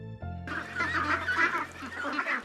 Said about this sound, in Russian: Кроме кур на ферме выращивают гусей.